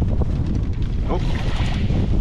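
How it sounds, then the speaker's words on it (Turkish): Strong wind at sea on a boat, steady roaring buffet on the microphone with water wash underneath, loud and continuous, with voices faintly mixed in. "Rüzgarımız da var her zamanki gibi."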